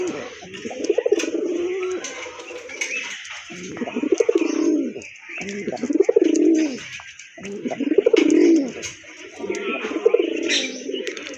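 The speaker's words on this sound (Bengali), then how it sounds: "তো আরেক জোড়া রাজগোল্লা কবুতর" Rajgolla pigeons, a sky-blue pair with white breasts, give deep rhythmic coos close by, about five repeated bouts with short pauses between them, and faint chirps in the background.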